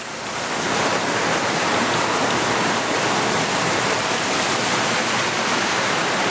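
River Ffyddion in Dyserth flowing over its riverbed, a loud, continuous rushing hiss of water close by that swells in over the first second, then holds steady.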